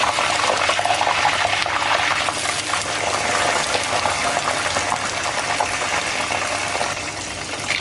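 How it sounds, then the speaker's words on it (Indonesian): Eggplant frying in hot oil, a loud, dense, continuous sizzle and bubbling that stays close and steady throughout with no talking. "kita pertama-tama yang kita lakukan goreng dulu terongnya ya"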